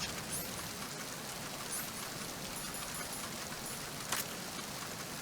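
Steady, even rain hiss from Metal Gear Solid 2 fills the whole stretch, with occasional faint drip-like ticks and a brief sharper patter near the end.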